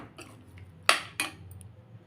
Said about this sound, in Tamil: நல்லா கலந்து கொடுத்துக்குங்க.